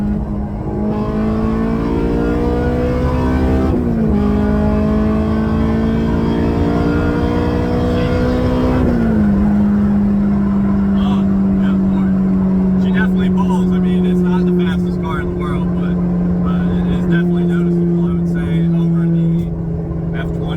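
A Honda S2000 with a swapped engine pulls hard on a highway, its loud, steady engine note climbing in pitch through the gears with brief drops at each shift, then settling into a sustained cruise drone.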